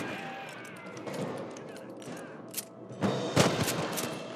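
Gunfire in Red Dead Redemption Remastered: a burst of sharp shots near the end over a busy game soundscape with a low rumble, after a few scattered cracks earlier.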